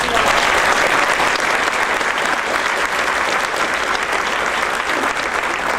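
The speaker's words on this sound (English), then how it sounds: "Let's give her a round of applause." A crowd at a May 2010 event with Governor Bev Perdue applauds a leader: dense, steady, loud clapping that fills the whole stretch without a break.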